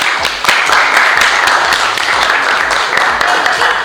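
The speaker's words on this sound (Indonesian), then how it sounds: "Oke, tepuk tangan dulu untuk kamu." Brisk clapping from a small group rings out steadily, many quick sharp claps overlapping at close range with some voices underneath.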